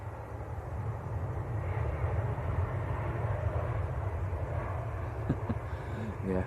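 An easyJet jet from Geneva rumbles at an airport, a steady moderate engine roar heard from a distance, with brief faint voices near the end.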